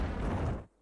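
A short explosion in the shooter game CS2, a dense, loud burst that rumbles briefly and then drops away abruptly into near silence.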